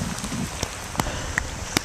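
Steady rain pours down on an open battlefield at Waterloo, a dense continuous hiss broken by a few sharp drips or taps, with no voices present.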